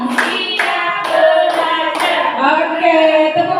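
Participants at an Indonesian teacher dissemination session chant a counted clapping routine together, with evenly spaced claps roughly every half second under loud, close unison voices.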